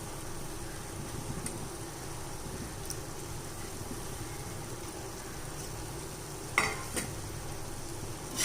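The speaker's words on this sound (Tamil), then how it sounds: "இப்போ நம்ம எறாவை சேர்த்துக்கலாம்." Prawns fry in a pan with a steady low sizzle, a soft constant hiss throughout, broken by a couple of brief metallic clinks near the end, no talking.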